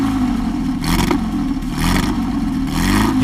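A Porsche 550 Spider's all-aluminum engine revs loudly in steady surges, rising and falling several times, with no talking.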